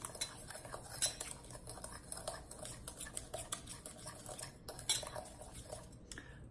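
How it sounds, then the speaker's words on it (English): A teaspoon stirs cinnamon into sugar in a bowl, making quick repeated scrapes and light clinks of metal against the bowl in an uneven rhythm, close and clear with no talk. "And I'm just going to mix the cinnamon into the sugar."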